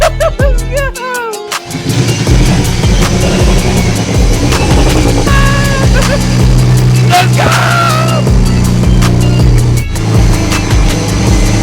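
A previously blown-up BMW engine cranks, catches and settles into a loud, steady rumble with occasional revs, while a voice speaks briefly over it.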